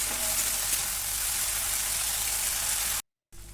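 Malabar spinach seeds (pui michuri) fry with a little sugar in a pan, a continuous dense close-up sizzle like steady rain that stops abruptly for a moment near the end.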